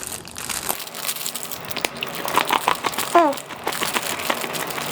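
A plastic bag of mawlid sweets crinkles and crackles close up, with dense irregular rustling and a few sharper crunches continuing for several seconds.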